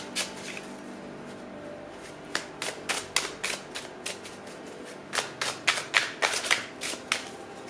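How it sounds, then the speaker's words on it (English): Oracle cards being handled and shuffled: a run of sharp, papery riffling bursts in quick clusters, close and clear with no talking, growing busier and denser toward the end. "And then we will open your oracle cards."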